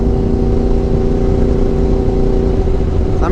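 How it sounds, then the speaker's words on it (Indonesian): A crossplane motorcycle engine idling and ticking over at low RPM, a loud, close, steady throb with a deep even rumble and no change in pitch, running alone without any voices. "Karena suara crossplan-nya itu emang paling merdu di RPM bawah."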